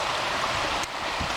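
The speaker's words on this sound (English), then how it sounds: "Now it's a rushing river." Rushing creek water in the Catskill mountains, running high and fast, makes a steady, close broadband wash with no break through the short stretch and no voices over it.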